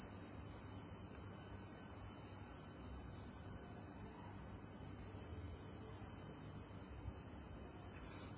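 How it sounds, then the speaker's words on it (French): A cricket chirps indoors with a steady, high, continuous trill, close and clear, running unbroken from start to finish over quiet background noise. "Le grillon n'est pas encore parti."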